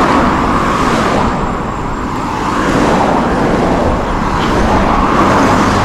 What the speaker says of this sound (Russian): Самая веселая история, когда возле тебя в полуметре проезжает фура.